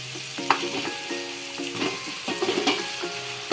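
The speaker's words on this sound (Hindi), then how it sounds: "और चिकन को हमने इतना भूनना है कि इसको गोल्डन सा कलर आ जाए" Chicken frying with toasted spices in a pan for chicken pulao, a steady close sizzle broken by several scraping stirs of the spoon, with no voices.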